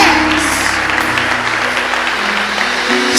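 A church congregation applauds loudly and continuously, a dense wash of clapping with a steady low hum beneath it, close and unbroken for the whole stretch.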